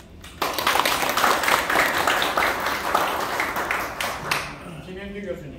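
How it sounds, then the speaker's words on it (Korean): A crowd at a founding general assembly applauds steadily for several seconds, the clapping dense and moderately loud, fading out near the end as a voice begins. "박수"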